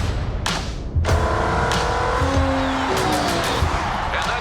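Race cars at the 24 Hours of Le Mans, with Ferrari winning, roar past with loud engine whine, sharp tire squeals and skidding bursts, the sound busy and close.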